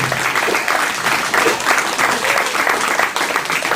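Sustained, even applause from a wrestling convention audience at the 2006 AWA Convention Showcase, a thick wash of many hands clapping that holds steady from start to finish.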